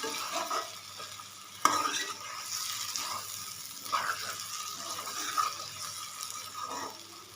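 Chickpea masala for chana masala being stirred and fried in a pan, a steady close sizzle broken by several distinct spoon scrapes and stirs, with no voices.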